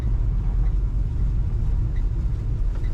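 A 1960 Chevrolet Apache truck engine idles with a deep, steady, throbbing rumble, heard close and loud for a few seconds without any voices.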